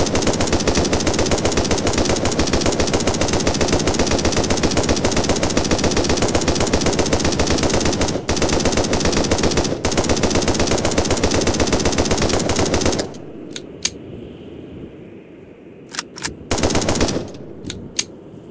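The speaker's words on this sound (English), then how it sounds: "Thompson submachine gun." Thompson submachine gun firing in the Gorebox video game: a long, loud, unbroken automatic burst lasting about thirteen seconds, followed by a few short separate shots.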